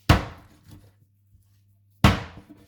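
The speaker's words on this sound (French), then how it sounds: "On va venir le concasser un peu à la feuille." A fish backbone for fumet is crushed with a cleaver: two sharp, loud chopping thuds about two seconds apart, each decaying quickly, with near silence between them.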